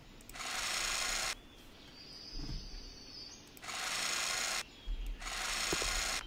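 Power drill boring into a floor in the Demolition Expert simulation game, three loud sustained whirring bursts separated by quieter gaps with faint mechanical clicks.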